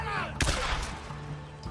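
A single sharp handgun shot in the zombie survival game Days Gone, cracking out once over low in-game ambience, with talk faintly present.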